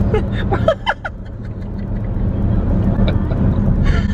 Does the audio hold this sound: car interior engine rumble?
yes